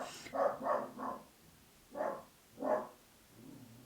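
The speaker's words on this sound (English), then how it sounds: "I don't know who he's barking at." A dog barking five times in short bursts, a quick cluster of three, a pause, then two more, moderately near, with no voices.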